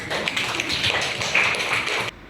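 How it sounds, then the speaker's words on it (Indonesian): Classroom applause from a group of students, a steady dense patter of many hands clapping together at close range, cutting off abruptly after about two seconds. "oke, kasih aplaus dulu"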